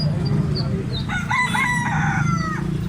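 A Puma gamecock, a three-year-old farm-raised rooster, crows once in a long drawn-out call, close and clear over steady low background hum and distant clucking fowl.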